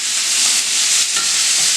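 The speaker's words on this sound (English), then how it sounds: "okay, let them sizzle a little bit" Chicken breasts sizzle steadily in a warm pan, a loud continuous hiss of frying with no voices over it.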